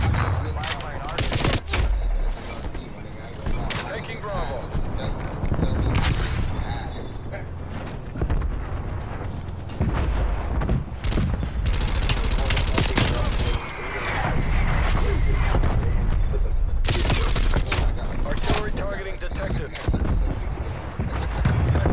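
Gunfire in Black Ops Cold War online multiplayer: dense bursts of automatic shots and booming blasts nearly fill the whole stretch, loud and close, with heavy rattling volleys.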